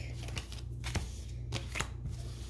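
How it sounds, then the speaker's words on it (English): A tarot deck is reshuffled by hand, soft papery riffles and slaps of cards heard close and fairly loud over a low steady background hum. "I'm going to reshuffle. Let's half the deck."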